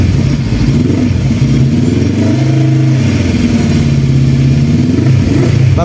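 A motorcycle fitted with an Akrapovic M1 aftermarket exhaust revs loudly up close, its deep engine note rising and falling through several throttle blips over a steady idle.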